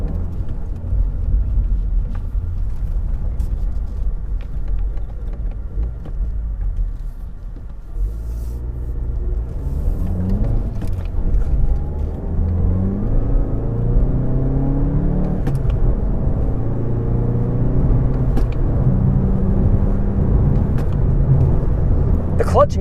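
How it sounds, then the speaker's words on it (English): A 2015 Volkswagen Golf GTI engine rumbles and hums while driving, rising and falling with gear changes, heard from inside the car at a steady, moderate level. "you would hear the engine immediately bog a little when the clutch was engaged"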